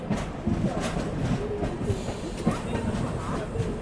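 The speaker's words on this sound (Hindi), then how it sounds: "जिस ट्रेन का हॉल्ट नहीं है ना, उस ट्रेन को ओवरटेक किया हमने।" Jhelum Express passenger train running on rails, a steady close rumble of wheels with faint rhythmic clicks throughout, heard from inside the moving coach.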